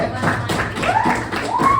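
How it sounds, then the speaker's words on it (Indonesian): Brief applause from a classroom audience rewarding a student's answer, scattered claps under a murmur of voices, moderately loud and close. "kasih tepuk tangan buat jawaban"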